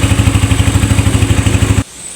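A Motor Star 160cc motorcycle engine runs after a clogged carburetor was fixed, a loud, close, rhythmic thumping idle that cuts off abruptly near the end, leaving quiet background.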